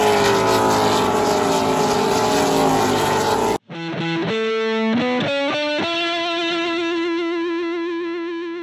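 Trans Am series road racing cars roar by loudly, first a dense wall of engine noise, then after a brief gap a single car's engine revs up and down through gear changes before holding a steady high note.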